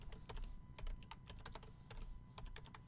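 Steady typing on a computer keyboard, a run of quick close key clicks in uneven bursts with short pauses, alone with no voices.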